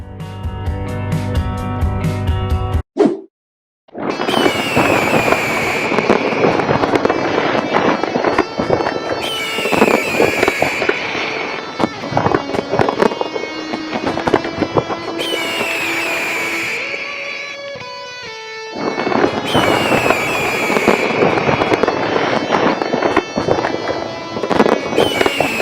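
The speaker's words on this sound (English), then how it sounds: "Enjoy the fireworks show." Fireworks crackle and boom in a Fourth of July show in the Roblox game Bloxburg, loud repeated bursts with sparkling crackles and a brief silent gap near the start, set over continuous music.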